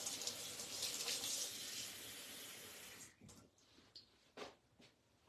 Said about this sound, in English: now I'm going to get 1/2 cup of water.